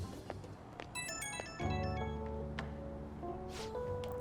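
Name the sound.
phone ringing in the video game Persona 5 Royal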